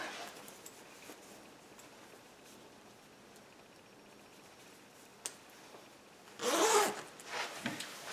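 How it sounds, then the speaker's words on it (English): A fall coat's zipper is drawn up in one quick rasping pull after several seconds of quiet room tone, followed by a couple of soft rustles. "so zip this up."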